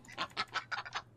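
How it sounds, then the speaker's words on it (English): Female king eider duck in Minecraft giving five or six quick, nasal quacks in a short even series, fairly faint and close, with no talk over it. "Oh, so that's an eider duck, isn't it?"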